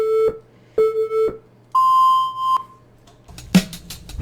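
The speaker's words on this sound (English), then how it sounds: "we edited in these three kind of solid tones and then a high pitch tone" Editing sync tones: three short, identical mid-pitched beeps in steady rhythm, then a longer, higher sustained tone, clean and loud, followed by the start of music.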